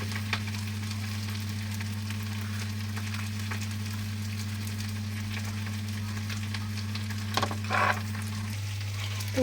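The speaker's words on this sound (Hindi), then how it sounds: "जब तक मेरी गोभी फ्राई हो रही है, आलू और गोभी" Potatoes and cauliflower fry in a pan with a quiet, steady sizzle beneath a constant low hum, with a brief clatter near the end and no talk.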